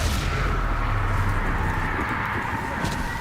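A Confringo fire spell from the Hogwarts Legacy video game bursts in a dense, rumbling blast that fills the whole clip with continuous crackling explosive noise and no speech.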